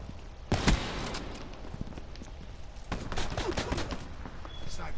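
Shotgun fire in Call of Duty Black Ops III during an online match: a loud close blast followed by a few further sharp shots and clattering game noise, with someone talking excitedly over it.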